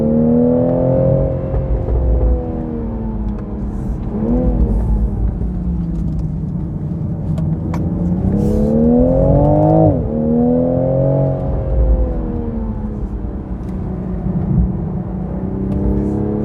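A car climbing a road through hairpin bends, its engine note humming steadily from inside, rising and falling as it accelerates out of corners, with continuous road rumble and no talk.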